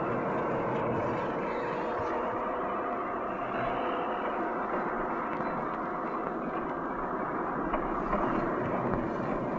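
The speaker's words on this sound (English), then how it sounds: "The long train gathers speed as it winds its way along the tracks" A steam passenger train gathers speed on steel rails, a dense continuous rumble and rolling roar, steady and fairly loud throughout with no pauses.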